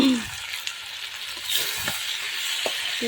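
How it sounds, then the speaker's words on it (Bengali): Meat and potato curry simmering in a pan, a steady close sizzling hiss with a few faint stirring scrapes and taps. "আলু দিয়ে মাংস রান্না করা হচ্ছে"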